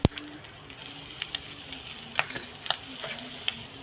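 Vegetables sizzle in a frying pan while noodles are being prepared, a soft steady hiss punctuated by sharp clicks and taps of a utensil stirring against the pan.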